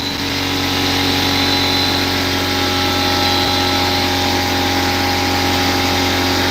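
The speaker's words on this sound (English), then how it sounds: "here goes the air compressor" An air compressor hums loudly and steadily with a constant motor drone in a workshop where fishing lures are being painted. A brief knock is heard partway through.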